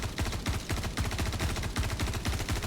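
A weapon in Star Citizen fires in quick bursts. Loud, close gunshots come in rapid clusters with brief gaps, repeating steadily throughout.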